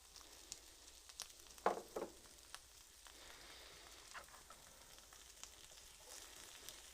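Onion sizzles softly in a hot pan with bay leaves for pork menudo, a faint steady crackle with a few louder pops and spits early on.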